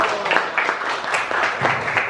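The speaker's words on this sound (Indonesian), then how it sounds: "Tepuk tangan untuk kita." A crowd at an indoor literacy school event claps in a brief, fairly loud burst of applause, many hands patting together at close range with no voices over it.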